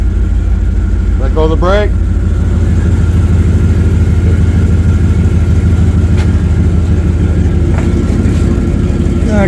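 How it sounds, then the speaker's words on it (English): A Dodge Durango's rebuilt 5.9L Magnum engine idling steadily and loudly close by, with a brief rise in revs early on while people talk over it. "Give it a little bit of gas while it puts on the brake."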